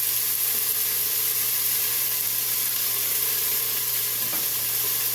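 Onion sizzles in a hot pan, a steady broadband hiss and crackle with small pops, loud and unbroken from start to finish with no talking.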